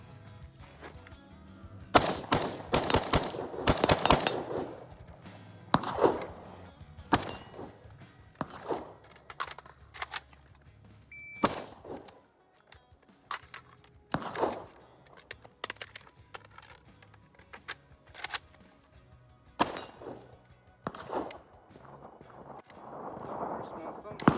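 A PSA AK74 rifle fires with erratic ejection and stovepipe malfunctions, loud sharp shots in irregular bursts and singles, separated by gaps, outdoors at close range.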